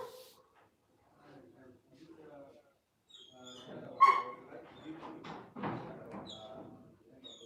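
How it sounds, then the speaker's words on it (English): Dogs bark and yip in short bursts, with a louder sharp bark partway through, mixed with speech and faint whimpers at moderate distance. "Those dogs are shouting too much."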